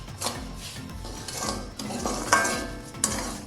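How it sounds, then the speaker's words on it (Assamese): Semolina (suji) and sugar stirred in a pan, a spoon scraping and swishing in repeated strokes about once a second, close and moderately loud. "এনেকৈ ঘনকৈ লাৰি থাকিব, নহ'লে চেনিখিনি লাগি যাব"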